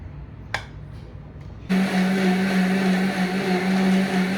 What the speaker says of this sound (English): So I'm gonna blend this with a cube of ice and a spoon of oil so that the paste is